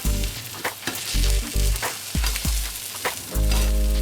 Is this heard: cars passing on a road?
no